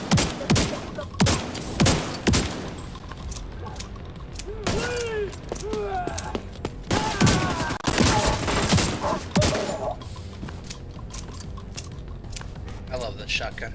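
Repeated heavy shotgun blasts from The Division 2 firefight, loud and close, spaced irregularly amid clanking mechanisms and background gunfire, with voices talking between shots.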